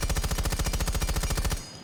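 Rapid automatic gunfire from a weapon in the Rainbow Six Siege video game, a loud, evenly spaced burst of about twenty shots that stops abruptly with a brief tail.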